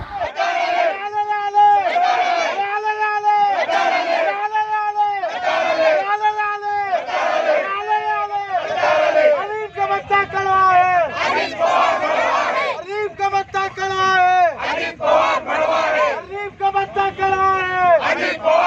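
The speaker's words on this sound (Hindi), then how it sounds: "अभी जो आवाज़ें, जो घोषणाएं आपने सुनी है, ये राष्ट्रवादी कांग्रेस के शरद पवार गुट की ओर से दी जा रही थी" Nationalist Congress Party supporters of the Sharad Pawar faction chant slogans at a political gathering, a large crowd shouting in rhythmic unison bursts, loud and close, repeated call after call with babble and cheers between.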